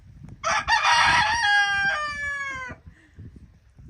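A rooster crows once, loud and close, a long drawn-out cock-a-doodle-doo lasting about two seconds over faint background noise.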